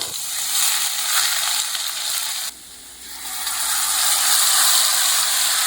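Ginger pieces fry in hot oil alongside cardamom, a piece of cinnamon and cumin for a side dish, giving a steady close sizzle that dips briefly midway and then returns at full strength.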